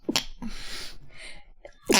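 A sneeze bursts out at the start, followed by breathy sounds and another sharp sneeze at the end, close and loud against a quiet room.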